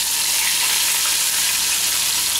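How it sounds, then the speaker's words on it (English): Onion rings fry in hot oil with a steady, dense broadband sizzle that stays loud and even throughout, with no talking. "Just going to drop the onion rings in. We're going to cook these till a nice golden crispy brown."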